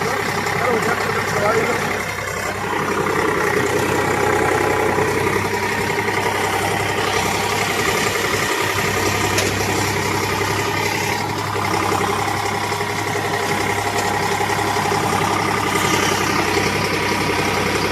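A tractor engine idles steadily nearby the whole time, a constant low chugging rumble that never changes pace.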